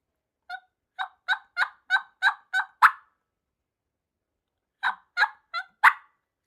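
A person imitates wild turkey hens, close and clear with no talk: a run of eight evenly spaced yelps ending on a louder, harsher note, a pause, then four more yelps closing on another sharp, cluck-like note.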